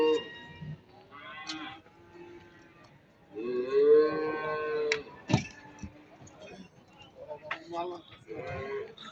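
Cattle lowing at a livestock market in Barda, several drawn-out calls mixed with other animal bleats, separated by pauses and overlapping with nearby chatter.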